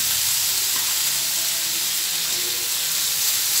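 Grated potato sizzles and hisses steadily in a hot pan, a continuous close frying sound with faint stirring and no talking, part of a simple Marathi-style potato bhaji.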